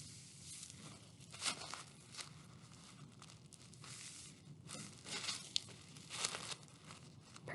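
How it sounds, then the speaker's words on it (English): Paper gets accordion folded for a craft flower, soft crinkling creases and brushing rustles arriving in irregular bursts, quiet and close, with brief pauses between folds. "So we're going to keep accordion folding all the way up to the tippy top."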